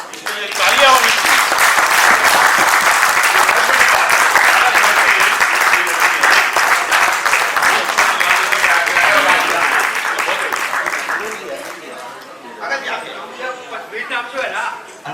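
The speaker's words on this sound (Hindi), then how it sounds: "उन्होंने वो योग खड़ा किया है, इसलिए तालियां होनी चाहिए।" Sustained audience applause fills a hall at the closing session of a Marwari youth forum cultural event, loud and dense for about twelve seconds before thinning into scattered claps and murmuring voices.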